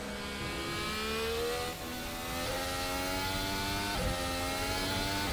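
Formula Hybrid 2019 F1 car engine in a sim racing game, revving hard in a steady high-pitched whine that climbs and drops with gear shifts, loud and close with no talking.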